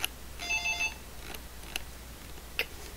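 A telephone rings in a quiet room during a call, one short burst of electronic trilling followed by a few faint isolated clicks, with no talking.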